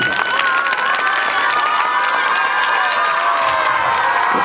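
Sustained applause from a farewell-function audience, with shouts and cheering mixed in, dense and steady throughout at a fairly loud level.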